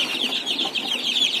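Village chickens in an intensively farmed coop, with young chicks among them, give a continuous, busy chorus of high clucks and cheeps that stay close and moderately loud throughout.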